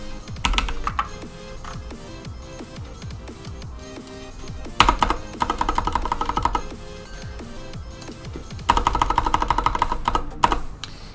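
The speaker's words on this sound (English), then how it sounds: "can hear my clicky keyboard." Fingers type on a clicky computer keyboard in rapid bursts of sharp keystrokes, with louder flurries separated by brief pauses, close and alone.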